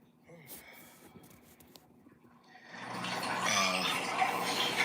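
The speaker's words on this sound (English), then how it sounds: "That is some water that he has running in the background" Water runs steadily from a tap in the background, a broad rushing hiss that swells in and grows louder through the second half, with speech-like sounds earlier on.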